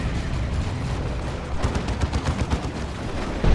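Eldar Falcon grav-tank firing on a Space Marine Razorback in the Dawn of War 2 strategy game, a loud wash of rumbling battle noise with rapid rattling weapon bursts and heavy impacts that swell toward the end.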